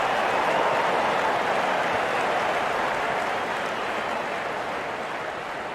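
Crowd applause from a Real Cricket video game washes in as a dense, steady roar of clapping that tapers slightly toward the end, with no talk over it.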